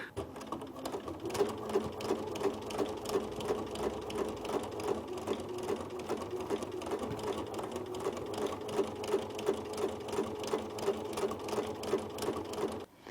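A sewing machine doing free motion quilting runs steadily and close for the whole stretch, its needle keeping a fast, even mechanical rhythm with no talk over it.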